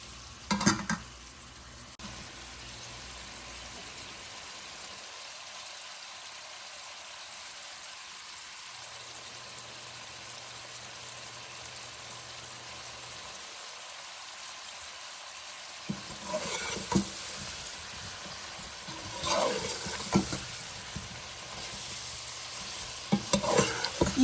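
Glazed carrots simmer in a pan as a steady, soft sizzle and bubbling, quiet through the middle and rising with louder stirring scrapes and pops near the end.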